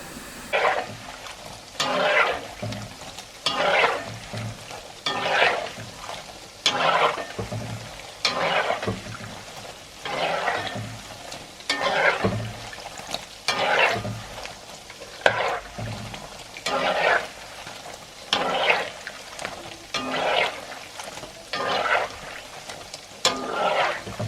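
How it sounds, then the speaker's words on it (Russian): Pieces of baursak dough fry in hot oil while being stirred, rhythmic bursts of sizzling and bubbling rising and falling every second or two with soft utensil knocks, close up and without talk. "Аккуратненько вот так постоянно помешиваем."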